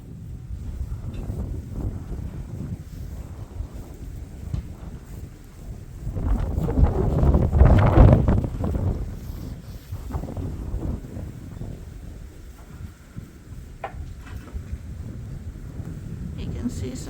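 Snowstorm wind roars against the microphone at a sheep farm barn, swelling to a louder gust midway before settling back into a constant rumble.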